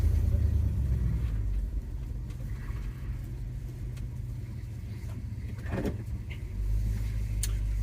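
A 1976 Ford F-150 Ranger pickup idles with a steady, deep engine rumble, close by, with a few light mechanical clicks and a slight swell in the low drone near the end.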